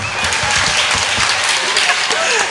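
Audience applause at a live Vietnamese music show, a dense, steady burst of clapping from a crowd, with voices mixed in beneath it.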